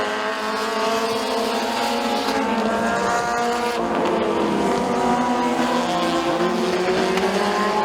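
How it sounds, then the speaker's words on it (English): Race cars roar around the dirt oval at McKean County Raceway during a heat race, engines droning loud and continuous with shifting pitch as the pack runs through the turns onto the straightaway. "They head through 3 and 4, back onto the front straightaway, 3 laps to go for Rich Cobb."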